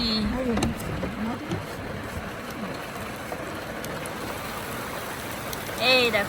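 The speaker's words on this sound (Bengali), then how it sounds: "কি সুন্দর বৃষ্টি হচ্ছে আহা হেভি হেভি" Heavy rain pours outside a roadside hotel as a steady, broadband rush that fills the whole stretch. A person speaks briefly at the start and again near the end over the downpour.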